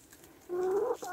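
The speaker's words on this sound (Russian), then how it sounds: "Все курочки вышли." A single short, rising cluck from a hen, close and fairly quiet, over a hushed background.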